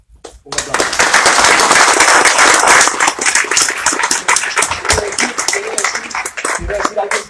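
Audience applause at a film symposium, dense clapping rising abruptly after a brief pause and holding loud and steady, then thinning slightly toward the end with scattered individual claps and some voices mixed in.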